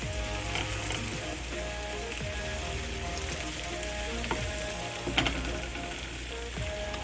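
Mushrooms and tomatoes sizzle steadily in margarine in a frying pan, a continuous close crackle broken by a few soft clinks of a utensil stirring.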